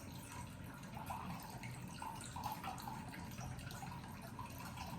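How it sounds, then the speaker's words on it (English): Alkaline water runs slowly from a dispenser into a cup in a kitchen, a steady soft trickling and splashing that continues through the whole stretch with no talking. "this is alkaline water. This ain't no regular water. It ain't gonna come out all fast."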